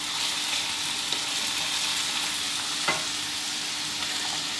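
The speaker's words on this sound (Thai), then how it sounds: "เราผัดให้ไก่เริ่มสุกขึ้นมาก่อนนะครับ" Chicken sizzles and crackles in a hot pan while being stirred, with a couple of soft utensil scrapes over the steady frying hiss.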